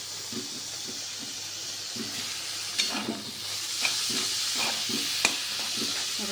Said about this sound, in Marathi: छान परतून घ्यायची दोन मिनटं ठेवून द्यायची